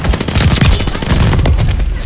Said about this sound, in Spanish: ¡Disparos en el punto caliente!